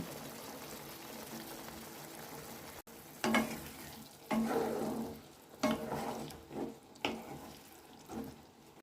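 Potatoes and peas hit a hot pan and fry, with bursts of sizzling and scraping stirs coming in several uneven waves over a quiet background, no talk.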